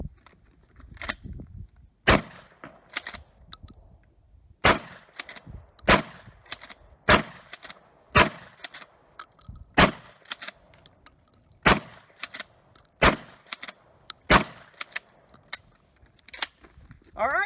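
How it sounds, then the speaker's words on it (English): A Mossberg 590M shotgun fires cheap rounds in a steady string of loud, sharp outdoor blasts, each followed by rattling clacks of the action cycling, roughly one shot every second or two. "let's give it one more try now that I've got about 150 to 200 rounds through this shotgun"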